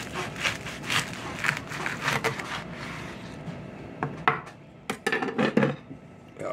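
A knife saws through an assembled BLT sandwich on a board, giving a series of crunchy clicks, scrapes and taps in uneven bursts, fairly close and otherwise quiet.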